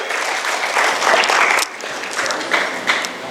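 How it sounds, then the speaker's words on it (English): A camp audience gives a steady round of applause that swells and then thins, with dense clapping near and loud, and no voices over it. "Give them a round of applause."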